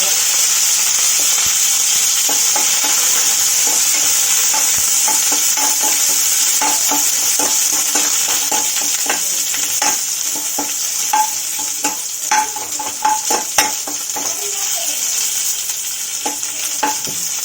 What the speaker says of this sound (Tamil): கடுகு வெடிக்குது. இப்போ நம்ம வெங்காயம், கருவேப்பிலை